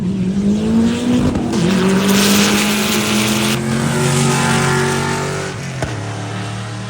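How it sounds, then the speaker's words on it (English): Honda Civic and Camaro drag racing at a cheap car challenge event, loud engines roaring steadily with rising pitch as the cars accelerate down the strip, a brief sharp burst near the end before the roar eases slightly. "And Zastro goes 1291, getting there a little bit ahead of the Camaro that goes 1308."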